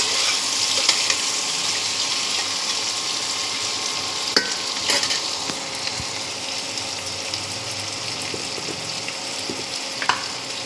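Steady hissing sizzle of potatoes and onions frying in a pan, with occasional scrapes and taps of stirring, loud and close without any talk.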